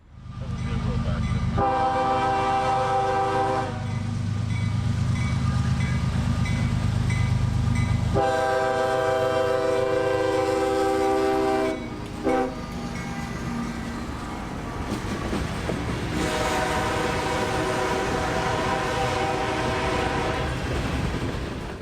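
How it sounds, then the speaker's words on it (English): A CSX L700 local freight led by the brand-new ACL heritage unit 1871 rolls by loud and close, its horn sounding in long blasts over rumbling wheels and clacking rail joints. "the local would wake up the small hamlet and give us our first look at CSX's brand new Heritage Unit"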